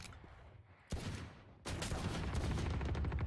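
Gunfire in a shooter video game, a loud sharp shot around one second followed by a second burst of dense shots that carry on to the end over a busy game soundscape.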